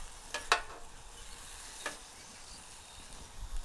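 Smash burger patties and buns cook on a hot griddle, giving off a continuous close sizzle and hiss, broken by a few sharp clicks of a spatula.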